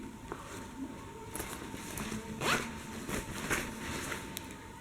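Japanese zips on an F Gear backpack, black outside and orange inside, are pulled open. Several close, crisp zipping strokes arrive in quick bursts, with the loudest rasp near the middle.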